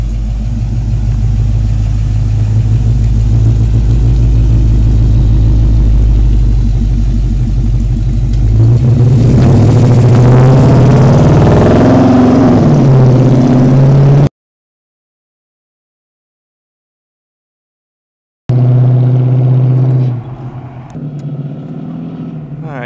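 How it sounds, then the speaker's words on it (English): A pickup-style truck idles and then drives along a road past a driveway, its engine rumbling loudly and steadily, swelling as it passes, then cutting out before returning quieter and more distant. "just so you can see what it sounds like as it's coming."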